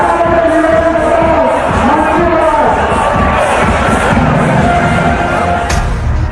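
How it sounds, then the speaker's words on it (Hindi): A large crowd at a Ram Navami procession in Hyderabad cheers and shouts steadily, a dense, loud roar of many voices with scattered whoops and chants that never lets up. "हजारों हिंदुओं की भीड़ रामनवमी की शोभा यात्रा में शामिल है"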